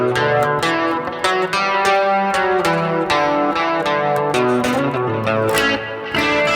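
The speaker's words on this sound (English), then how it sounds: "And then maybe a little bit of reverb." Electric guitar in a 1980s new wave style, run through delay and reverb, plays a bright, steady chiming pattern of picked chords and notes with echoing repeats that trail into one another. It is loud and close, with no voices.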